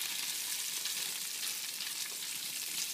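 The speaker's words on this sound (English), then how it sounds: "I kind of just want to watch you cook bacon" Bacon frying in a pan in a home kitchen, a dense, even hiss of sizzling fat that holds steady and close throughout, with no voices.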